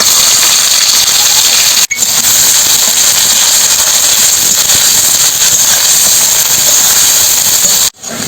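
Onions sizzle loudly and steadily in a hot pan for chicken curry, a dense continuous hiss and crackle of frying that runs nearly throughout, broken by two brief dropouts.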